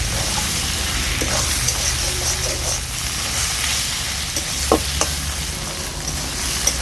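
Bottle gourd stir-frying in oil in a pan, a constant close sizzle broken by scattered scrapes and clinks of the stirring utensil, with no talk over it.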